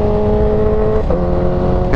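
Kawasaki Ninja H2R supercharged motorcycle accelerating hard, a loud, close engine tone rising steadily through the gears with a brief dip at a shift and a sharp climb again near the end.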